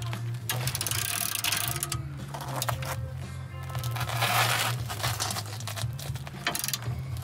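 A socket wrench ratchets a shock bolt loose on a Volkswagen MK7 GTI: a continuous close, loud pawl clicking with gritty metal grinding, pausing briefly between bursts of strokes over a low steady hum.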